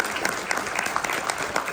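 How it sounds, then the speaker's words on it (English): A brief burst of audience applause at a hall of fame speech, dense overlapping claps close by with no talking over it. "I just want to give her a round of applause"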